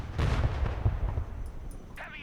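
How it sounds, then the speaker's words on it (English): Artillery piece firing in the war game Broken Arrow, a series of heavy low booms and thuds rolling over busy battlefield ambience, with faint crackling afterward. "Let's use our artillery piece to clear these buildings."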